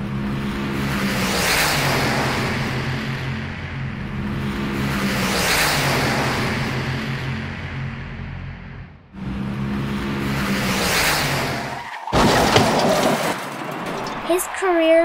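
A cartoon race car revs in repeated rising engine surges, then cuts off briefly before a sharp screeching skid and more motor noise near the end.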